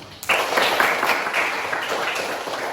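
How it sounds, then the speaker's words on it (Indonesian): A classroom of students clapping after their presentations, a dense burst of many hands that starts suddenly and holds steady for a couple of seconds, close and moderately loud. "Aplaus untuk kalian."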